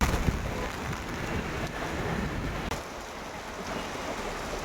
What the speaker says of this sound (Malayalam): മഴയും കാറ്റും തകർത്ത് ചെയ്തുകൊണ്ടിരിക്കണ്ട.